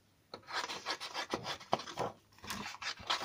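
A small piece of red paper being cut, heard as close, quiet scraping and snipping strokes in a rough, uneven rhythm for a few seconds, with no talking.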